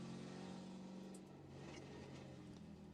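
A Spec Corvette race car drones steadily at speed on track at Virginia International Raceway, heard faintly from onboard as an even, sustained engine tone.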